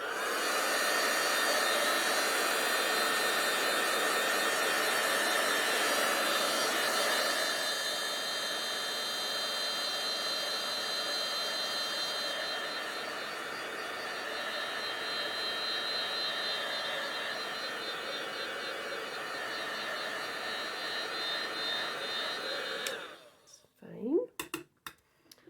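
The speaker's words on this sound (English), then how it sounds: "volume down if you don't want to hear the" A heat tool dries distress oxide ink on a mixed media tag, giving a loud continuous blowing roar that holds for over twenty seconds before switching off amid handling clatter.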